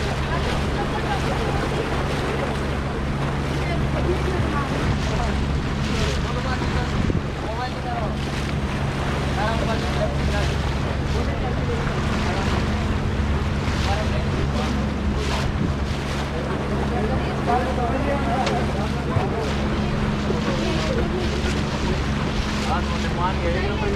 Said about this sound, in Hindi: So we are off to the boat ride of Lake Pichola.